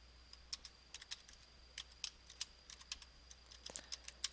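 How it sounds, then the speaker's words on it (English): Keystrokes on a computer keyboard typing a website name, quiet and close, arriving in short irregular bursts of light clicks with brief pauses between them and no voices. "I type in the website's name,"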